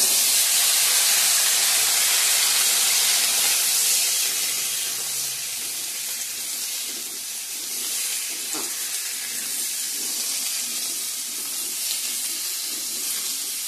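Mixed vegetables, potato among them, drop into hot tempering oil and set off a loud, close sizzle that gradually settles to a softer, steady hiss with faint scraping.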